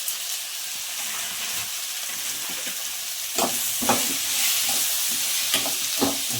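Chili powder and salt fry in oil in a pan for a fish curry, a soft sizzle that grows louder midway with several scraping stirs of a spoon, close and without talk.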